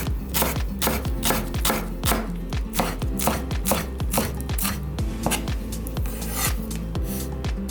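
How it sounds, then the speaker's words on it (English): Knife chopping green onion on a cutting board, a steady rapid run of sharp, close chops, loud and continuous with no talking. "I'm gonna chop the green onion"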